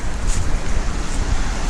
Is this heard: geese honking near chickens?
no